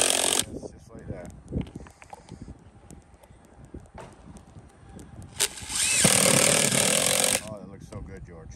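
A power tool drives screws into a mobile home roof, with short bursts of whirring followed by a longer loud driving run near the end, amid knocks and handling noise close by.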